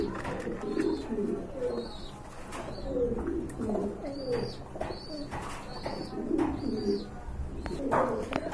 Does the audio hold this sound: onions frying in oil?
no